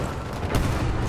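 A grenade blast in the World War I shooter Battlefield 1 gives a single dull, muffled boom that rises out of steady loud battle noise about halfway through the moment.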